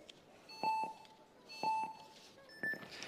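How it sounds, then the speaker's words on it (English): Electronic buzzers at a speed climbing race sound three clear beeps about a second apart, the last one higher in pitch, over faint crowd ambience. "We wait for the buzzers."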